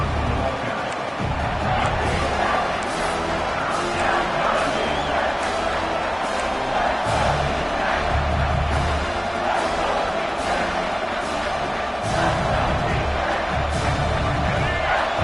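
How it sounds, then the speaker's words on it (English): A large stadium crowd in the college football video game NCAA 26 roars steadily throughout, a dense wall of cheering and noise that swells slightly in places without letting up. "This crowd is trying to inspire this defense to make a big red zone stop"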